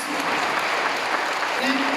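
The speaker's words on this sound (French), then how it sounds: "Un tonnerre d'applaudissements pour l'association Acte 3." An audience applauding the sound and lighting technicians of the Acte 3 association, a dense, even wash of many hands clapping for two seconds, close and fairly loud with a voice faintly audible underneath.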